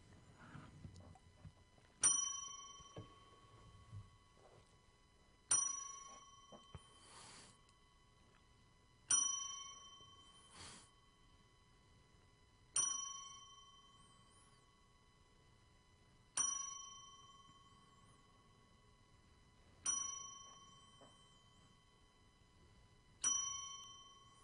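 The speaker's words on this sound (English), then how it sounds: "Z gives our 10-bell salute for him" Ten-bell salute in a wrestling tribute, a single bell struck ten times at slow, even intervals, each clear metallic ding ringing out and fading before the next strike in otherwise quiet surroundings.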